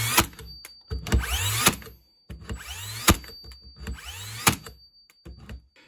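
Bosch GNH 18V-64 M cordless nailer firing in multiple mode: four loud, sharp drive cycles about a second apart, each a quick whirring wind-up and mechanical bang followed by a short gap, close and with no talking.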